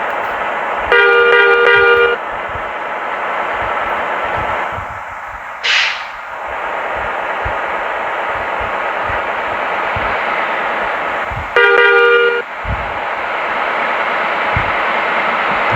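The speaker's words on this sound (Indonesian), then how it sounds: "Ini saking ngejar waktunya di klakson itu di depan itu." Car horns honk on the road ahead during a highway drive, two sustained blasts several seconds apart over steady road and engine noise inside a moving vehicle.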